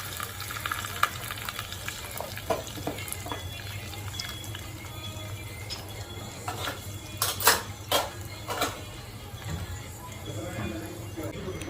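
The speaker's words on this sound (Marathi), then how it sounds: "तेल चांगले गरम झाले की तुम्ही मोहरी व कढीपत्ता टाकून द्यायचा आहे" Mustard seeds and curry leaves sizzle in hot oil for tempering rava dhokla, a steady crackling hiss with sharp pops and occasional utensil clinks, fairly close and moderate.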